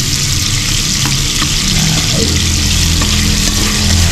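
Gravy with crushed Knorr cubes is stirred in a pan over a loud, dense, steady sizzle. Occasional faint scrapes of a utensil sound up close through the bubbling.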